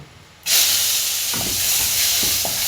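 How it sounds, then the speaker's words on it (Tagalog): Ginger and other aromatics hit a hot pan for a chicken kinamatisan dish, breaking into a sudden loud, steady sizzle and hiss that carries on, with a few soft clinks of stirring underneath. "igigisa na natin ang ating mga aromatics. So unahin natin ang luya"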